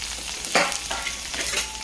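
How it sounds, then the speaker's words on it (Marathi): Mustard seeds, cumin, curry leaves and garlic crackle and sizzle in hot oil in a kadhai for a tempering, a steady close frying hiss with a few sharper pops and stirring scrapes. "त्यामध्ये आता आपण मोहरी टाकली, थोडंसं जिरे, छान असा तडका देऊन घ्यायचा आहे."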